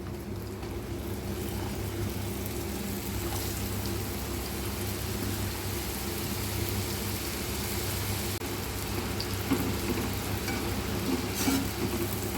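Maida diamond chips sizzle as a batch drops into hot oil, giving a dense, steady crackle that runs continuously at close range, with no talk.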